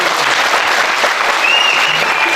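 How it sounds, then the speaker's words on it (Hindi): An audience at a motivational talk breaks into loud, dense applause, a continuous wash of clapping close and steady for a couple of seconds. "जोरदार तालियां"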